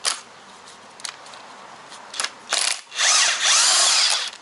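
A 17 mm power tool loosening the strut nut on a Toyota Supra MKVI: short whirring bursts first, then a loud, sustained high-pitched spinning whine that runs close to the microphone until the clip ends, with no talk.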